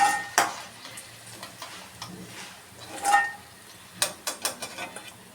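Cauliflower 65 pieces fry in hot oil with a soft, quiet sizzle, broken by several sharp clinks and scrapes of a utensil stirring in the pan.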